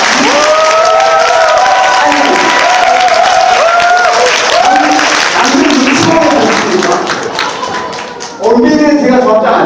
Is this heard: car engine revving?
no